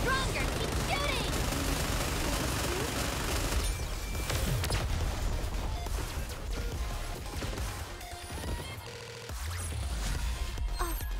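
Heavy gunfire in Goddess of Victory: NIKKE plays as dense, continuous bursts of rapid shots and impacts, loud throughout with a brief dip near the end, layered with game effects.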